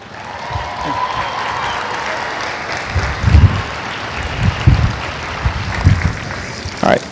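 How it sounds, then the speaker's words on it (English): A crowd claps at a US Air Force basic training coin and retreat ceremony, a steady wash of applause broken by several louder low thumps, with some voices mixed in. "Please give them a round of applause."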